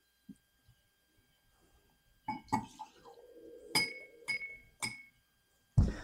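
A drink being mixed in a glass with Old Dominic wheated bourbon, several sharp clinks and chinks of glass and ice, close and spaced unevenly over a few seconds with quiet gaps between.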